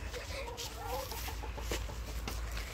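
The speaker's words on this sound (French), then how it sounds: "les poules vont manger là" Hens clucking softly and irregularly nearby, with low rumbling background noise throughout.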